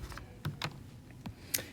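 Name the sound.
typing on a keyboard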